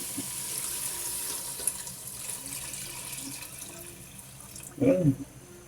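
Water runs briefly into a pot of pork sinigang, a short gushing pour near the end after a quiet stretch of low kitchen background.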